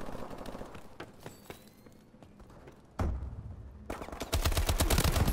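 Rapid automatic gunfire in Call of Duty Advanced Warfare, scattered single shots at first, then dense, loud bursts of fire near the end.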